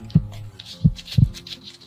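A heartbeat sound effect gives three deep, low thumps at an uneven pace, clear and close, with faint breathy noise between beats.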